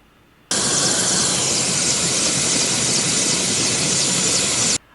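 A helicopter engine roars in flight over New York, a loud, unbroken whine and rush that starts abruptly and holds steady before cutting off sharply.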